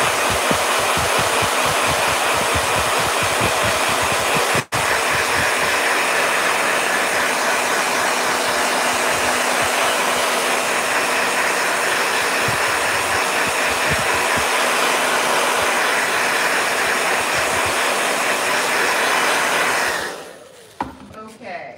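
A blow dryer runs loudly and steadily for about twenty seconds, a constant broadband whoosh with one brief dropout, then switches off near the end.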